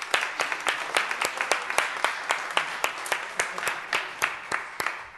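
Audience members at a community cultural center event clap in a fairly sparse, evenly spaced rhythm, individual claps standing out distinctly rather than merging into a roar, holding steady for several seconds.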